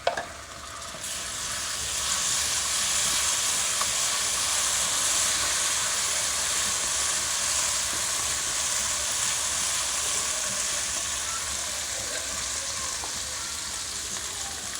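Onions fry with ginger garlic paste in a pan, a loud, steady hissing sizzle that holds evenly throughout, with no voices over it.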